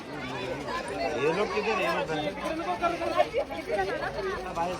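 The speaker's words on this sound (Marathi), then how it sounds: "फुल गर्दी आहे फुल जत्रा भरलेली" A crowd at a busy Mahashivratri temple fair at Khandeshwari keeps up a dense, continuous babble of many overlapping voices close by, with nearer chatter rising above the hubbub.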